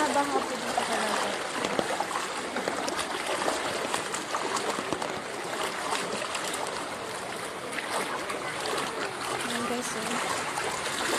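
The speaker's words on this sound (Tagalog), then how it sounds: "Yan yung tubig na pumapasok doon sa amin." Floodwater from Typhoon Carina rushes and splashes steadily and loudly into a home, a constant churning roar with a person speaking briefly over it.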